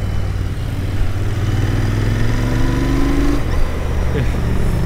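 A Royal Enfield Interceptor 650 motorcycle engine drones steadily while riding, loud and close, with a rising pitch as it accelerates and continuous wind and road rumble around it.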